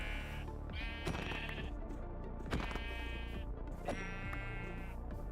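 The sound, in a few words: sheep bleating in Minecraft (video game)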